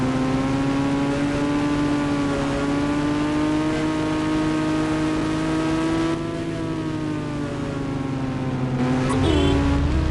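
A car in the mobile game Indian Bikes Driving 3D drives along with a steady, droning engine tone that holds nearly level, shifts slightly midway, then ends in a brief jolt of noise.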